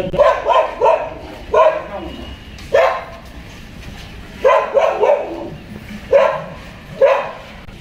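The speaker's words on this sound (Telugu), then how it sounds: "ఈ కుక్కను ఈ గదిలో కట్టేసాము" A dog tied up inside a room barks in loud, close bursts, a few quick barks at a time with short pauses between them, with some faint talk underneath.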